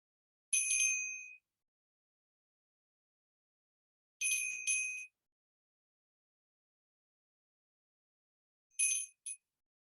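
Small handheld bell, also used as a dinner bell, struck three times to open a meditation session, each bright ring decaying over a second in a quiet room.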